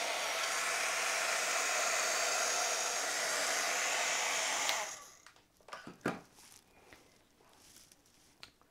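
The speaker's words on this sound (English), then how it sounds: "I'll grab my heat tool and allow it to heat up and then melt this powder" Heat tool blowing steadily and loudly at close range while it melts opaque white embossing powder on a stamped card sentiment. After about five seconds it cuts off, leaving quiet handling noises and a few soft knocks.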